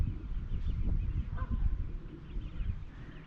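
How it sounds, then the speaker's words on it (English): Canada geese on a lake honking repeatedly in a loose, overlapping flock chorus, moderately distant and fairly soft, with no talking. "A lot of Canada geese, which luckily aren't in my swim."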